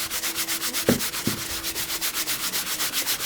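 Saphir shoe polish is rubbed into leather shoes in fast, even back-and-forth strokes, a loud close rhythmic scrubbing with a couple of brief knocks partway through.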